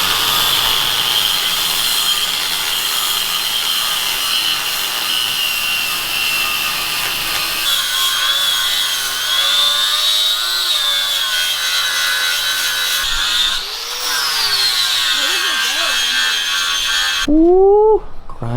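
A power tool cuts away a small flange on a car part, grinding in a steady abrasive rasp that rises and shifts in pitch as it bites. Near and loud, it ends abruptly with a brief higher whine.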